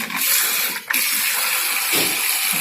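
A cooler water pump under test pushes water out, a loud steady rushing gush with a brief dip partway through, heard close and alone.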